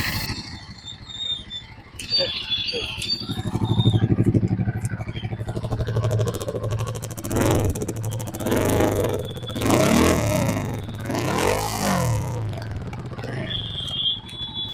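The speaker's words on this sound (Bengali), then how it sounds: "তো এটা হলো আপনার ইঞ্জিনের অরিজিনাল সাউন্ড" Royal Enfield Himalayan 450 motorcycle engine running steadily nearby, with a continuous low rumble that swells into several revs and a brief mechanical squeal, alone without talk.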